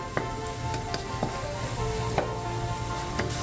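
A large amount of garlic frying with softened vegetables in a pot, a steady sizzle broken by a few soft clinks of stirring, close and even throughout.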